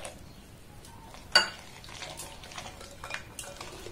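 Milk is blended bit by bit into eggless cake batter in a steel bowl, with a soft scraping stir, one sharp spoon clink against the bowl and lighter taps afterward.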